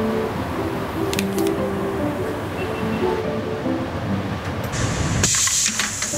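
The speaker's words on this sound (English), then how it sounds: "What an incredible machine! It looks like a robot insect with its pincers and claws folding the shoe together." A factory machine folding a trainer shoe together runs with a continuous mechanical rumble, brief whirring tones and clicks, then a sharp hissing burst near the end.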